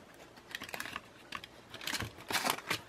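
Scissors snip through paper while trimming the side of a window envelope belly band, a series of quick, close crisp cuts in irregular bursts, busiest near the end.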